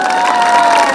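A festival crowd at the Tufanbeyli Bean Festival cheers and claps in a brief, loud burst as a singer is welcomed onto the stage.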